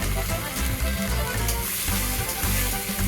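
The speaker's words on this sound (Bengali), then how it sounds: "একটু ভাজা হয়ে যাক" Capsicum fries in hot oil with a loud, continuous sizzle and crackle, broken by a faint rhythmic stirring scrape, close and with no talk.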